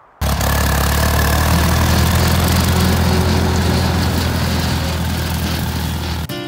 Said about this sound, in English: and mowing the pasture.